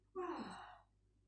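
An open-mouthed yawn during a spring Hatha yoga class, a single soft breathy exhalation of under a second, heard alone and fairly quiet.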